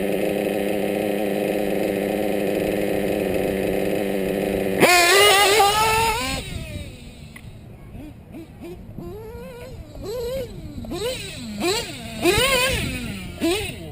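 A small engine idles with a steady, buzzing drone, then its pitch jumps and warbles as the revs rise and fall in uneven surges, loud and close.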